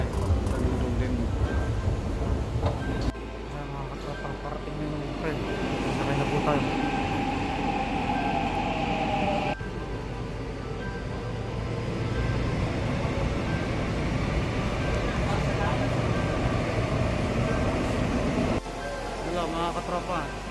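Inside a Seoul subway train, a steady rumble of wheels and running motors fills the carriage with a continuous hum, rising and dropping slightly as the train moves.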